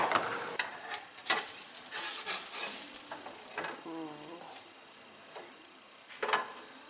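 An Uncrustables sandwich fries in a pan, giving a quiet, uneven sizzle with scattered crackles and small pops, plus a few brief louder bumps.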